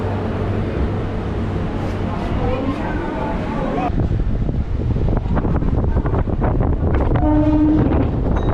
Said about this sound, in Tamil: இப்போ வாங்க இந்த ட்ரெயின் ட்ராவலை ஸ்டார்ட் பண்ணலாம்.